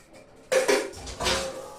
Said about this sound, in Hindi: ये मैं लंच का बर्तन क्लीन कर रही हूँ।